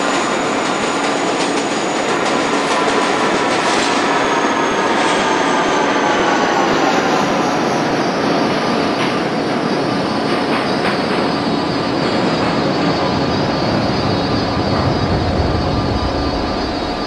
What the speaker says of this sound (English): This is a Manhattan-bound E local train.